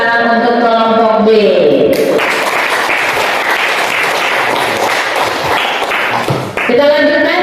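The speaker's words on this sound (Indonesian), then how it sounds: "Tepuk tangan untuk kelompok B." Group B receives dense applause from a classroom of participants in a fresh-fruit food processing session, with loud, sustained clapping that overlaps speech at the start and end.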